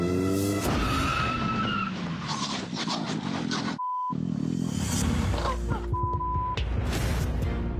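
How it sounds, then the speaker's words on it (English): On a road, a car skids with a sharp tire squeal and then rams into another slowing car from behind, a loud, sustained burst of noise with a brief gap and a second crunching impact. "the car from earlier does not appear to notice Daniel slowing down and barrels into him from behind"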